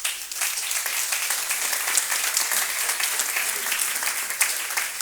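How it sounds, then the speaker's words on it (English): An audience at a smart grid summit applauds after an executive roundtable, with steady, dense clapping that carries evenly from start to finish. "Join me for a round of applause."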